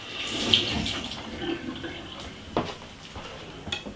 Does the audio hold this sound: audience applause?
no